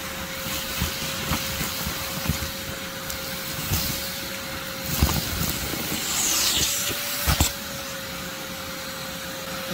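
A steady vacuum cleaner drone with an airy hiss runs throughout, broken by a few sharp clicks and thumps as yellow jackets from an underground nest get sucked in.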